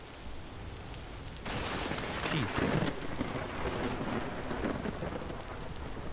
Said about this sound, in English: it's not gonna stop raining